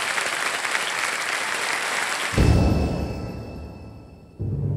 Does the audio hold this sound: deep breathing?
no